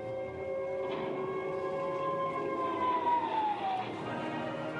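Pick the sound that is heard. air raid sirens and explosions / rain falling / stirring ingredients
air raid sirens and explosions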